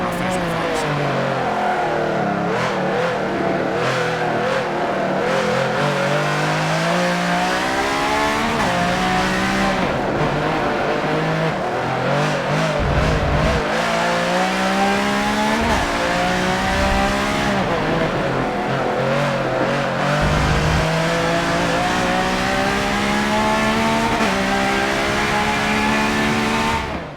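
A Pagani Zonda in Forza 7 multiplayer racing screams through rising and falling gear shifts and revs, with tire squeal as it takes a corner. The engine noise is loud and continuous throughout.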